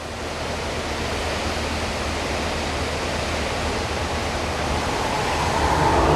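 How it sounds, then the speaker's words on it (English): Bridal Veil Falls in a North Carolina temperate rainforest, a steady broadband rush of falling water heard up close, loud and unbroken, swelling slightly toward the end with no voices. "This is called Bridal Veil Falls."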